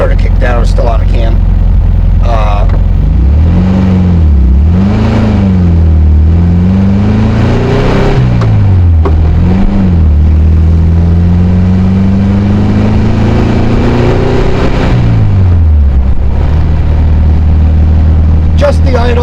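A 1968 VW Karmann Ghia's air-cooled engine runs at a high idle. It hums low and steadily, loud and close, and its pitch drifts up and down as the revs rise and settle.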